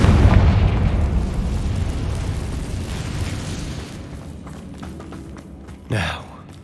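A Confringo spell explosion in the game Hogwarts Legacy lands as a loud, close boom and then fades over a few seconds, followed by a short whooshing burst near the end.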